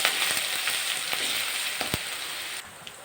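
Garlic and ginger paste sizzles steadily in a hot pan for a dhaba-style paneer dish, a bright continuous crackle with a few soft clicks of stirring, fading slightly at the end.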